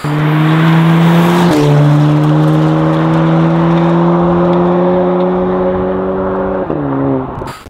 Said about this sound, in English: Here we have the titanium catback exhaust shown.